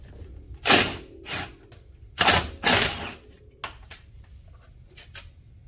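A wrench ratchets off Can-Am brake caliper bolts on a 2012-or-later Gen 2 machine, several short bursts of clicking mechanical turns separated by pauses, close and clear.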